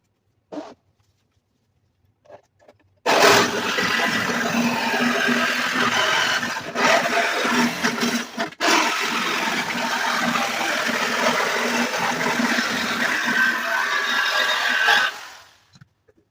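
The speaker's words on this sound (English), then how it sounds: "Important tip when you use a jigsaw like that, make sure it has a fine metal cutting blade." A jigsaw fitted with a fine metal cutting blade saws through a car fender in one long continuous loud rasping buzz of about twelve seconds, starting abruptly after a few faint taps and stopping sharply, with no talking.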